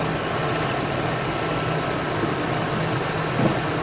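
A newly installed engine in a Ford F-250 pickup truck idles steadily and loudly, a constant low rumble with broadband mechanical noise throughout and no talking.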